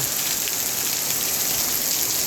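Steady, dense rain hisses evenly on surfaces throughout, a constant close wash of falling water with no breaks.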